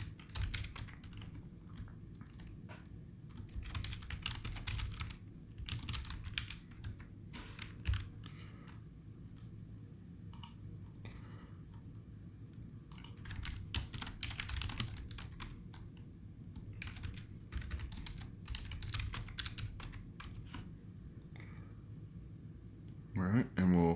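Keys clatter in bursts of typing on a computer keyboard while a registration form for a cloud services portal is filled in, steady rapid clicking over a low background hum with pauses between entries.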